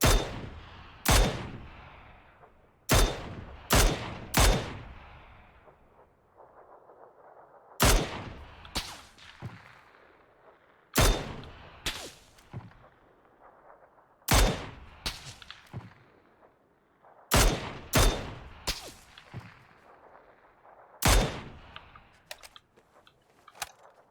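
Repeated bursts of gunfire in the battle royale game PUBG (Battlegrounds), loud and sharp, firing in short clusters of two or three shots with brief pauses between volleys, no voices.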